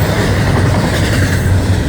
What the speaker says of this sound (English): after the train went by the thing